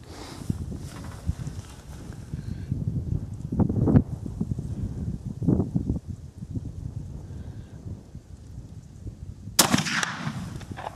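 A Savage 220 slug gun fires Remington AccuTip slugs outdoors, giving a few sharp, loud reports spaced several seconds apart against a background of steady ambient noise.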